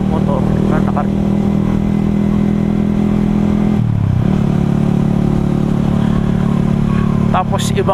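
Remapped motorcycle with an aftermarket exhaust pipe riding along, a loud, close, steady engine drone with a brief dip and revving change midway, and faint talk over it.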